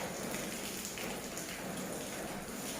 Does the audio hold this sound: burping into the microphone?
no